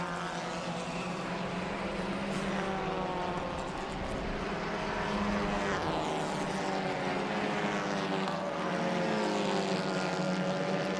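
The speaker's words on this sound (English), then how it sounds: "Now the cars are heading out on track." TCR touring race cars heading out on track during qualifying at Rosario, a continuous engine drone with rising and falling harmonic tones as cars pass, heard at a moderate distance with no talk.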